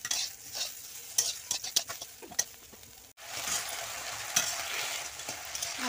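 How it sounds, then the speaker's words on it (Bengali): Bitter gourd slices frying in hot oil in a pan with a steady sizzle, broken by sharp scraping clicks of a spatula stirring in quick bursts, then a brief pause before the sizzle resumes full and close. "আমার উচ্ছেটা ভাজা হয়ে গিয়েছে"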